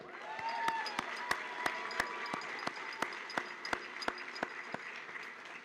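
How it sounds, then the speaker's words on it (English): Sparse, distinct handclaps ring out in a room at a pharmacy technology pinning ceremony, a handful of people clapping at an uneven rhythm over a soft murmur of background voices. "I think we can do a little bit better with applause for our students"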